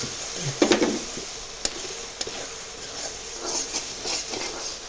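A spoon stirs red chili powder into potato curry in a pan with faint scraping, a few light clinks against the metal, and a soft background hiss throughout.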